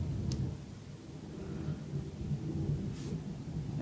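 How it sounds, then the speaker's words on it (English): Thunder from a thunderstorm outdoors, a low continuous rumble rolling on throughout with faint crackles, heard from indoors at a distance with no talking. "We have a thunderstorm outside, guys, and I just saw a flash of lightning."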